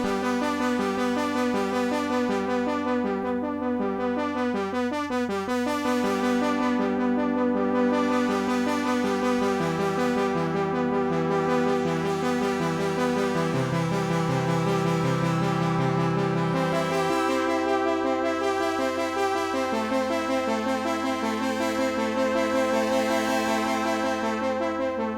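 Synthwave arpeggio on a Korg Minilogue XD, drenched in reverb: a rapid, steady stream of bright repeating notes over a held bass, with the pattern shifting through chord changes. Loud and continuous with no talk throughout.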